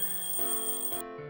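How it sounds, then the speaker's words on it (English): A ringing alarm clock in the Doki Doki Literature Club mod Doki Doki Outcast, a bright synthetic ringtone chime with sustained tones that shift pitch a couple of times before cutting off, quiet and clean. "I turn off my alarm clock"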